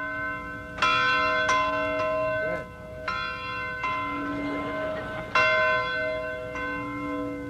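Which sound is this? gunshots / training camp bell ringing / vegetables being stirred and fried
training camp bell ringing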